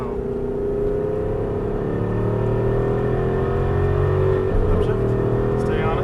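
An Aston Martin V8 Vantage accelerating on a Las Vegas race track, its V8 engine rising steadily in pitch as it pulls hard, loud and close, with a voice talking over it.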